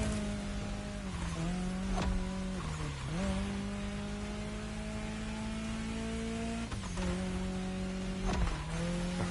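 A Honda Civic Type R engine driving in the racing game The Crew Motorfest, a steady droning hum that rises in pitch, dips abruptly at gear shifts and climbs again, loud and continuous with no talk.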